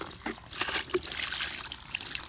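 Water with minnows is poured out of a plastic jug used as a minnow trap, a brief close trickle and splatter onto the ground.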